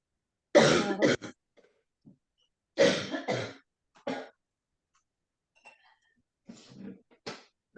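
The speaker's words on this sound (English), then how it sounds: "I knew I'm going to cough after some time" Close, loud coughs and throat clearing in a few separate bursts, followed by quieter rasps and breaths.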